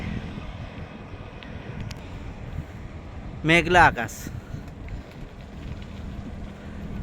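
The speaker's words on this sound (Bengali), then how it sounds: "আর স্নিগ্ধ হাওয়া এখনও পর্যন্ত বইছে" Steady wind rushes past a microphone while a bicycle is ridden along an open Delhi Road on a cool, cloudy day during a long Kolkata-to-Puri ride; the wind is a constant low roar, and a voice speaks briefly midway.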